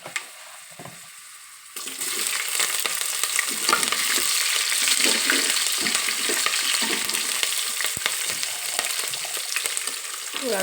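Green chillies hit hot oil that already holds urad dal, for village-style vermicelli upma; the quiet pan jumps at once into a loud, dense, steady sizzle, with spatula scrapes and one sharp knock, close up and without speech.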